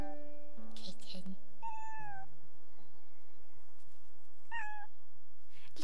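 A kitten meows twice, with clear, drawn-out high cries spaced a few seconds apart, close and distinct over a quiet background with soft sounds of voices.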